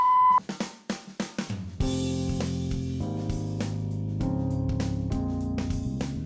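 A voicemail beep sounds as a short, clean electronic tone at the very start, followed by a run of decaying plucked or struck notes and then sustained musical chords.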